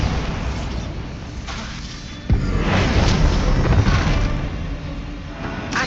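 Bombarda spell exploding in the video game Hogwarts Legacy during a spider fight, a sudden loud boom that cuts in sharply and leaves a dense, rumbling blast wash trailing on for several seconds.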